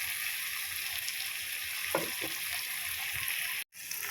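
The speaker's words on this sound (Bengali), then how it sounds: "তেলের মধ্যেই দিয়ে দিয়েছি কাঁচা লঙ্কা কেটে।" Sliced green chillies sizzling in hot oil in a home kitchen pan, a steady loud crackling hiss with a couple of soft stirring scrapes, close up and without talk.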